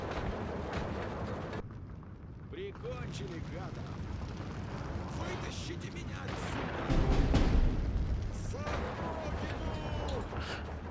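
Mortar fire on Maxim machine gun positions in the WW2 strategy game Steel Division 2: scattered booms and crackling battlefield explosions over a rumbling background, with one heavier, louder blast partway through, under someone talking.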